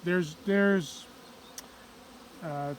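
Honey bees buzzing around a hive with a drone-laying queen, in bursts, several loud close passes with humming drones between quieter gaps.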